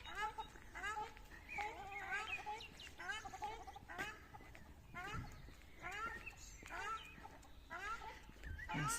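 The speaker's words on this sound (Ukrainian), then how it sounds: "Зараз поблизу підійду, зніму вам ще цих пташок балакучих." Chatty farm chickens cluck and chatter continuously at close range, with overlapping repeated calls in a lively, busy rhythm.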